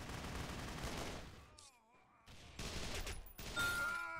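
Bursts of gunfire in the shooter game Repulse 3, several rapid volleys broken by a short lull and a brief electronic chirp, fairly close and sharp.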